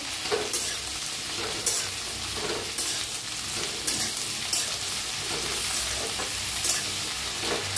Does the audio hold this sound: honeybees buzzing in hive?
no